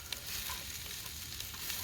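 Onions, capsicum and bacon sizzling in bacon grease in a dutch oven at a forest campsite, a steady close frying hiss with no talking.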